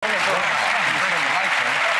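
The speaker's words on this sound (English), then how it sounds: "A round of applause." Studio audience applause for a magic act on a televised magic competition show, a dense, steady wash of clapping held for two seconds with a voice over it.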